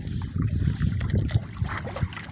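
Small fishing boat's engine with a loose spring running at sea, a near, uneven low chugging thrum mixed with water and wind noise.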